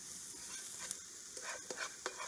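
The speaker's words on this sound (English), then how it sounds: "Now, we're going to stir this up." Browning onions, soft and mushy, get stirred in a pan, a soft steady sizzle with several quick scraping strokes toward the end, quiet and close.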